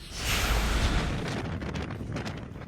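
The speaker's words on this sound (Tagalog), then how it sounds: "tila sumisipol pa ang lakas ng hangin" Heavy gusting storm wind in Northern Luzon, Philippines roars against the microphone, loud and buffeting, with rushing noise swelling and fading.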